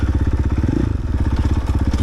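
A KTM enduro motorcycle descending a steep tractor trail gives off a loud, close engine that pulses in rapid, rough beats with a brief dip partway through.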